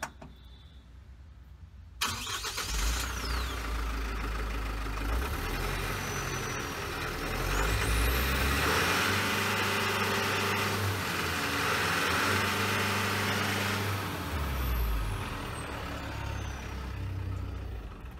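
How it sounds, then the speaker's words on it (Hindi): A 2019 Tata 407 tipper truck with a 3000cc diesel engine starts up close by, then idles with a steady low rumble that rises and falls as it is revved, with no talking. "आइए इंजन साउंड सुनते हैं।"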